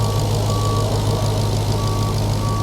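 A supercharged HEMI V8 in a 2021 Dodge Challenger Hellcat Super Stock idles steadily, a continuous low, smooth drone with an even hum and no revving, close by and alone without speech.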